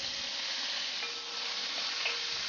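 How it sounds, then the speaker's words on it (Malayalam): Chopped ginger sizzles in hot coconut oil in a traditional urli, a dense, even hiss holding steady throughout the brief moment with no voices. "എണ്ണ ചൂടാകുമ്പോഴേക്ക് ചെറുതായിട്ട് അരിഞ്ഞു വെച്ചിരിക്കുന്ന ഇഞ്ചി ഇതിലേക്ക് ഇട്ട് കൊടുക്കാം."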